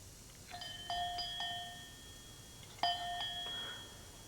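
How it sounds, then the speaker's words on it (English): A leper's warning bell rings twice, each time as a short run of bright metallic dings with a lingering ring, heard alone and at moderate distance. "I even grew to hate my bell."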